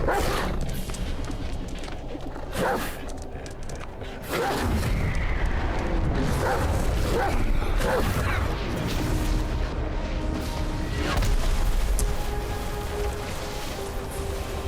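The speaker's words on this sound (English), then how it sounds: "I got a dog up there." Dog barking in the action game Black Myth: Wukong, a few loud barks rising out of a dense, rumbling game soundscape with booming effects and music throughout.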